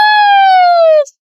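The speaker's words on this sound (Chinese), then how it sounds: "是什么触发了警报？" Loud electronic alarm siren on a warship in an animated drama, a single steady tone about a second long that cuts off abruptly, followed by silence.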